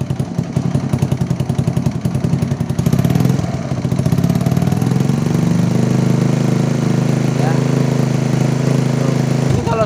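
A motorcycle engine, just started and running while its charging output is checked after an LED lamp swap, idles steadily and then is revved up partway through, the pitch rising and holding loud and close.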